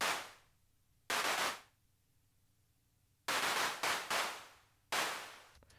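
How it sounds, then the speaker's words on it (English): A resampled electronic clap from Bitwig's E-clap, sharp noisy hits with quick decaying tails, played alone in an irregular pattern of single and closely spaced strikes. "I also went in and I resampled a clap sound here."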